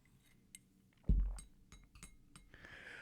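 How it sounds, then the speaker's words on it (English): A breaking-glass sound effect plays as something is thrown at the camera, a sudden sharp crash with clinking, then a short fading rattle of glass. "when I throw anything at the camera and make that sound, I take that from David Letterman"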